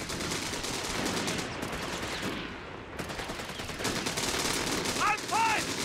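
An MG-42 machine gun in the Company of Heroes 3 World War II strategy game fires in dense, continuous bursts amid constant battlefield noise, with brief voice-like calls near the end.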